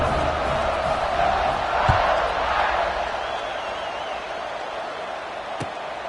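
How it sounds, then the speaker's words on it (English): A stadium crowd roars in the NCAA Football 25 video game before a kickoff, a broad sustained wash of cheering that fades slightly, with a commentator talking over it. "this crowd now ready to get behind them"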